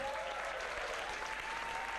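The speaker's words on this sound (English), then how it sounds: "Give her a big round of applause." Audience applause for a women's finalist from Switzerland being introduced at a competition final: a dense, steady wash of many hands clapping together, loud and sustained without a break.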